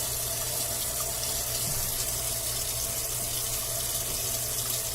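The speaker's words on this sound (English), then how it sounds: "Let me just wash my hands." A kitchen tap runs steadily into a sink while hands are washed, a soft continuous splashing stream heard close and alone throughout.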